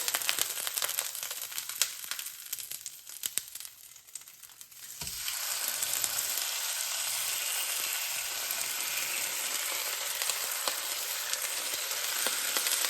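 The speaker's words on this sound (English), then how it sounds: "I'm basically just gonna pan sear it." Skin-on meat sears in a hot pan, a quiet pause giving way to a steady broad sizzle that holds evenly for several seconds with no talking.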